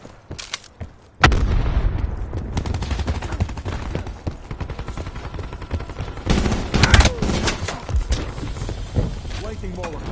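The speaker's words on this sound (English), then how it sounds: "Hostile frag grenade." A frag grenade explosion and bursts of rapid gunfire in the shooter game Black Ops 4 fill the scene loudly and close up, with a heavy blast partway through, while a voice speaks over the action.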